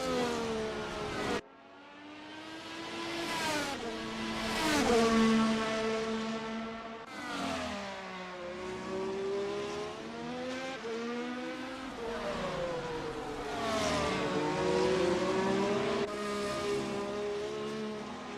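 Race car engines in a racing video game, several cars whining and rising and falling in pitch as they shift and pass, loud and continuous with brief tire squeals.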